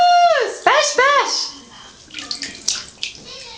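A small child splashes in a bathtub with water sloshing in short bursts, while an adult voice and a voice talk brightly over the watery sounds.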